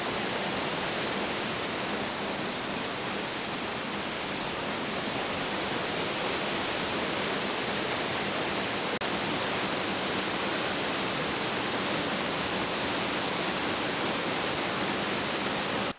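Roaring waterfall at Seneca Creek falls, a steady, loud, broadband rush of falling water filling the whole span with no break, heard up close and alone.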